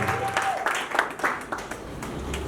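Applause from guests at a civil wedding ceremony in a town hall, a steady clapping wash for a few seconds with some voices mixed in.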